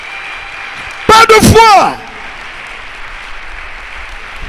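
A church congregation breaks into a short, loud burst of applause lasting under a second, mixed with a raised shouting voice. Quieter room tone follows.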